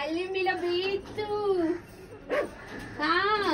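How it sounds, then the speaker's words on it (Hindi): A dog barks from inside a tent, a close series of loud barks mixed with whiny, rising yelps, coming in three clusters separated by short gaps. "इस लड़की को कुछ नहीं करना, वो अंदर से भौंक रही है।"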